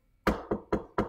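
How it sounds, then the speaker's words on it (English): Knocking on a door: four firm, evenly spaced raps, close and distinct, with no voices in between. "someone knocked the door"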